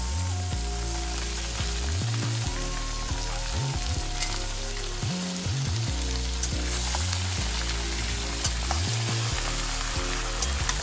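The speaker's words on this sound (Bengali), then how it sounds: "ভাজা পেঁয়াজের মধ্যে মাংসগুলো নাড়তে নাড়তে এখন এই অবস্থায় একটু দেখে নিতে হবে" Just over a kilo of chicken frying in about 400 g of fried onions, with a steady loud sizzle and repeated scraping, clattering stirs throughout and no talking.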